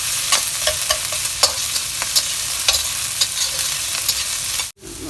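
Masala frying in a pan for a tamarind fish curry, with a steady close sizzle and a spoon scraping and stirring in repeated light strokes.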